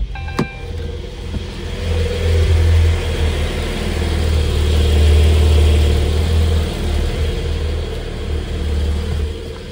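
Porsche 911 992 Carrera 4S with PDK starts with a sharp catch, then its engine holds a loud, low, steady rumble close by that swells gently as it revs, with no talking.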